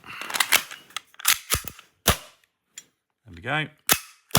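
A Tokyo Marui Glock 17 gas airsoft pistol with a steel slide, fired several times at close range, giving sharp cracks with a snapping slide action, some in quick pairs, while someone speaks briefly between shots.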